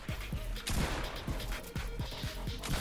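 Gunfire rings out in the Fortnite video game as a rapid run of thudding shots with sharp cracks, dense and loud at close range.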